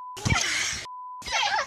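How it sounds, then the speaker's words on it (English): Two steady censor bleeps cover children cursing at a bus driver on a school bus, each tone cutting in alone between bursts of loud, noisy shouting. "She says those beeps are children cursing at her"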